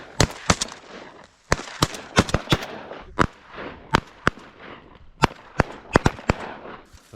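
Shotguns fire rapidly at a flock of ducks outdoors, with about twenty sharp, loud reports in irregular clusters, some overlapping and others spaced apart, each echoing briefly.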